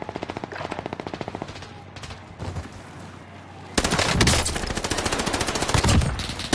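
Rapid automatic gunfire from an online shooter video game, sustained bursts that grow louder and denser partway through, with no talking over them.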